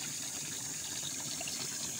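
Spring water gushes steadily out of the ground on a farm lot beside a river in the dry season, a soft, continuous rushing with no voices.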